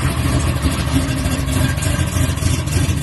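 Chevy box car engine idling on a cold start, a steady loud rumbling drone with some rattle and slight surges, close by throughout with no talk.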